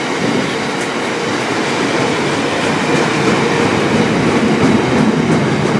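A train rumbles steadily through a railway station, loud and close, with continuous wheel and carriage noise and faint rail squeal throughout, no voices.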